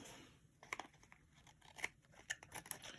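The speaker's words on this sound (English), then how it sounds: "Trim the edge." Scissors trim the edge of a paper postcard in a few quick snips and rustles, soft and close against a quiet background.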